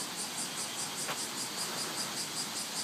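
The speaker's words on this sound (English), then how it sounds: "Those are the first cicadas I've heard this year in Japan." Cicadas singing on a summer morning in Japan, a constant buzzing drone with a faint pulsing rhythm, steady and fairly close, with no talking.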